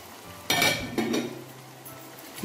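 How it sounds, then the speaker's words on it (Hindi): Chicken pulao ingredients fry in a pot with a soft sizzle, while a spoon scrapes and clinks against the metal in a couple of sharp stirring strokes, close and fairly quiet. "इसको हम अच्छे से भूनते हैं।"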